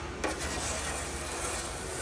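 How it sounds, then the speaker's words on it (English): The upper skin overlap on a Rockwell Commander aircraft fin being trimmed, a continuous close rasping, filing scrape with a sharp tap near the start, and no voices. "Trimming the upper fin skin overlap."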